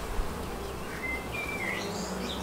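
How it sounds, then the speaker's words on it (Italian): Honeybees swarm around a packed feeder at a top-bar hive, their buzzing a dense, continuous drone close by, with brief higher whines of individual bees flying past and no voices. "sposterei anche direttamente il nutritore perché è tutto pieno di api"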